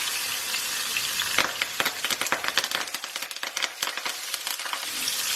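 Spices, green chilies, hing and curry leaves fry in hot oil for an Indian cabbage and chana dal dish, giving a steady close sizzle with a burst of sharp crackles and pops as the ingredients hit the pan.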